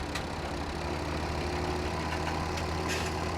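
A tractor engine idles steadily in Farming Simulator, set on a Pacific Northwest farm map, giving a constant low drone with a faint tonal hum and light mechanical clatter, unchanging and alone.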